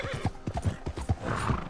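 Horse hooves clip-clopping at a steady trot in Red Dead Redemption 2, close, rhythmic thuds about every half second, along with a brief horse whinny and no talk.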